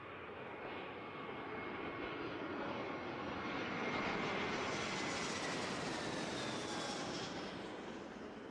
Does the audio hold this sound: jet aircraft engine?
yes